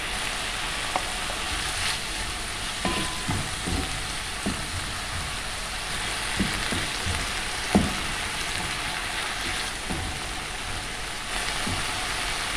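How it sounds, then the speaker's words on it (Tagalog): Garlic and onion fry in a pan with a steady, close sizzle, punctuated by occasional clicks and scrapes of stirring. "Lagay natin yung garlic. Lagay natin yung onion."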